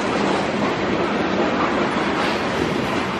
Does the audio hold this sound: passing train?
yes